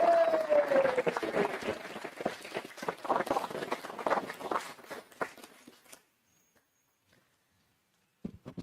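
Audience applause for award recipients at a school board meeting, a fairly faint, brisk clatter of hands lasting about six seconds before it stops abruptly, with a short voice afterward.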